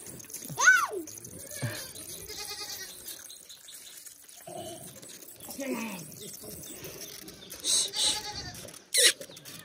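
Goats bleat close by, with one clear wavering bleat early and further short cries later, under intermittent talk and a few sharp knocks.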